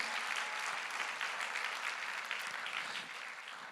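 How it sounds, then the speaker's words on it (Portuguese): A church congregation claps together in sustained, even applause, a thick, continuous patter of many hands that holds steady and eases slightly toward the end, with no voices standing out. "Vamos aplaudir a Jesus"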